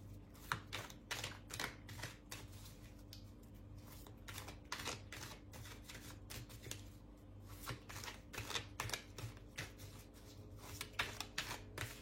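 Oracle cards being shuffled by hand, a steady run of close, crisp riffling flicks and soft slaps repeating for the whole stretch, with no talking over it.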